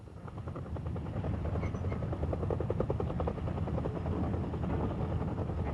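A Mil Mi-10 heavy flying crane helicopter's steady, loud rotor thump and engine drone, continuous and close, with no other sounds over it.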